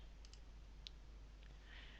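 A computer mouse clicks the Save button in iGas software, giving a few faint, sharp clicks over a steady low background hum.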